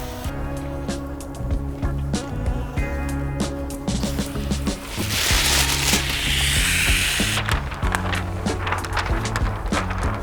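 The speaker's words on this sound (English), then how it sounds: "All ready to spray squeegee spray." A spray bottle mists squeegee solution onto car window glass during window tinting, with several close, hissing bursts alongside handling and rubbing noises.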